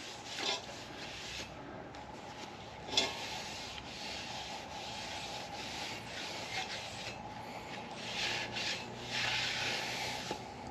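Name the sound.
wiping car wheel with wax and grease remover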